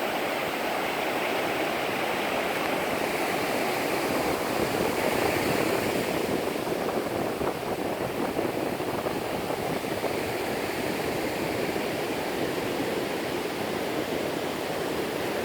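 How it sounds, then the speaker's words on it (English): Ocean surf breaking on a beach that gets sand replenishment, a steady broad wash of waves rolling in continuously at moderate distance, with no voices. "Look at that gorgeous surf."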